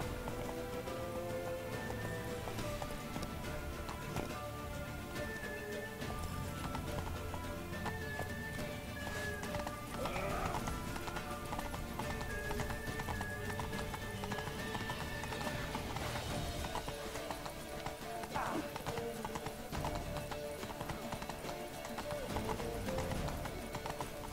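Rapid clip-clop of horse hooves galloping in The Witcher 3 game, a steady driving rhythm over a busy backdrop of music and effects, with occasional voices.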